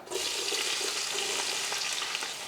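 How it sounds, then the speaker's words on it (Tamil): Chopped onions hitting hot oil for chicken biryani, a loud, dense, unbroken sizzle heard up close without any voices. "எண்ணெய் நல்லா காஞ்சதுக்கு அப்புறமா பார்த்தீங்கன்னா நான் வந்து ஒரு முந்நூறு கிராம் அளவுக்கு வெங்காயம் எடுத்து வெட்டி வச்சுருக்கேன் இதை சேர்த்துடலாம்"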